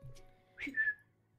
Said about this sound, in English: I only have a very a very bad whistle